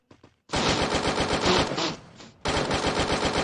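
Automatic gunfire in a battle royale video game match, with two brief shots followed by long, dense bursts of rapid fire, a short lull, then another loud burst, close and sharp.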